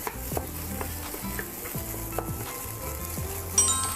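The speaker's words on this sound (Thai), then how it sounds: "หลังจากนั้นก็ค่อย ๆ ผัดคั่วไปเรื่อยๆ นะครับ" Noodles being stir-fried in a pan with soy sauce and seasoning, a soft sizzle under repeated scraping and clinking strokes of a spatula against the metal, steady and close, with no voices.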